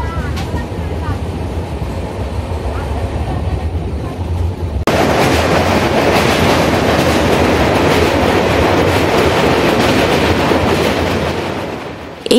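The 12821 Dhauli Express from Howrah to Puri runs loud and close on its rails, a steady rolling rumble with clickety-clack. The sound grows fuller and more roaring about halfway through and stays loud to the end.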